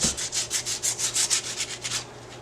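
Coarse 80 grit sandpaper rubs across carved plaster in about a dozen quick, even back-and-forth strokes, close and clear, then stops.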